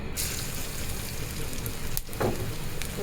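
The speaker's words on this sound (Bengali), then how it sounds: "তেলে দেওয়া রসুনগুলো দিয়ে দিলাম এটা একটু ভালো করে আমি ভেজে নিব" Garlic frying in mustard oil in a pan, a continuous soft sizzle and crackle with a few brief louder pops, close and steady throughout.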